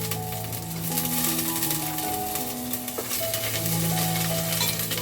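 Ginger paste fries and is stirred in a pan while cooking a lentil and vegetable khichuri, giving a loud, steady sizzle with scraping stir strokes, close up and with no talking.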